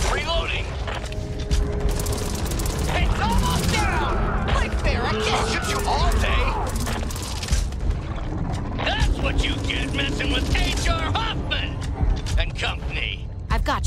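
Rapid bursts of gunfire and heavy booms from the Back 4 Blood beta fill the whole stretch, dense and loud, with voices talking over the action.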